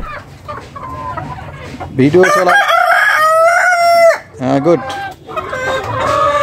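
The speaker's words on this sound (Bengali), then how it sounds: "আর এই যে মোরগ, বিশাল একটা সুটম দেহের মোরগ। হ্যাঁ, ডাকাটাকে শুরু করো" A large, heavy-bodied farmyard rooster crows loudly and close by, one long drawn-out cock-a-doodle-doo with a shorter call after it, while someone speaks briefly around the crowing.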